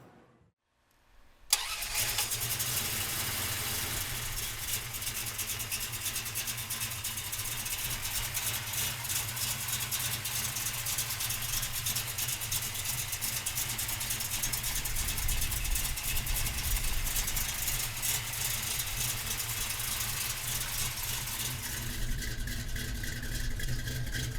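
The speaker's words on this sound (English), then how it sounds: "come on up and we'll fire it up for you right now" After a moment of quiet, the V8 engine of a 1968 Plymouth Barracuda cranks and roars to life, then settles into a loud, steady, rumbling idle.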